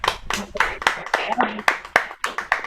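Audience clapping to welcome a team member at a digital celebration event, a loose, uneven run of sharp claps spread over nearly three seconds, close and fairly loud, with occasional voices mixed in.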